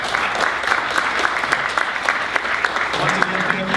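Audience applause at a youth government city council meeting, a steady, fairly close clatter of many hands that holds evenly, with a voice starting to speak over it near the end.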